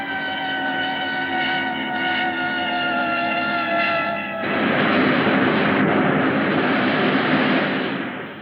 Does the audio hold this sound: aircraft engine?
yes